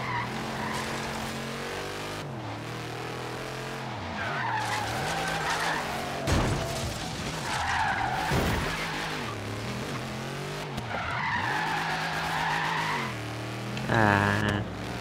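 A Dodge Charger R/T drifting through short city streets in Forza Horizon 3, its engine revving and dropping repeatedly while tires squeal in several long skids, loud and close with no speech.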